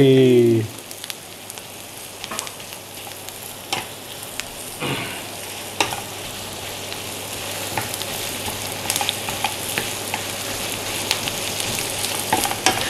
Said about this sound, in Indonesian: Nah, ini dagingnya kita goreng dulu ya.